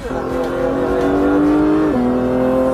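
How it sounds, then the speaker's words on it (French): A Ferrari race car on a circuit roars close by with a steady, loud engine note that holds high, then drops in pitch as it passes, filling the whole stretch. "On va laisser passer la Ferrari."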